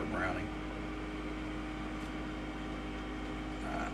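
An air fryer runs on its air broil setting with a steady fan hum and whir, a low constant drone under faint background sound.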